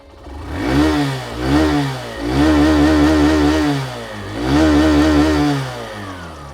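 Hero Glamour 125 BS6 motorcycle with a side-hung single barrel exhaust, revved several times in the open, each rev swelling and dropping back to a steady idle, close and loud with no voices.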